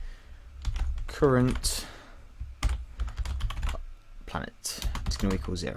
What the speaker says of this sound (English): I would also like to apologise if my typing's a little bit slower than normal. I've got a new keyboard and it may sound a little bit different